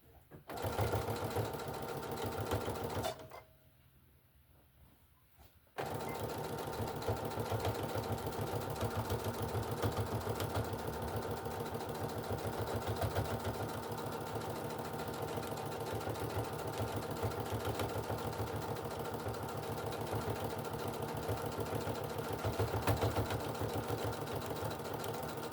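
A sewing machine back stitches across the bottom of a walker caddy. Its steady close motor hum breaks briefly near the start, then resumes and runs on without stopping.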